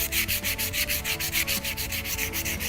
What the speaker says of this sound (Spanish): lijamos en la dirección de la veta de la madera